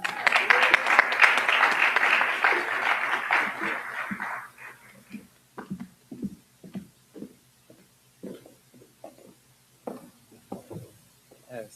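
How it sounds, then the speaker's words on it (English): Applause from an audience at a university convocation for a flag rededication, loud and dense for about four seconds, then fading into scattered individual claps. "Can we give another round of applause for them?"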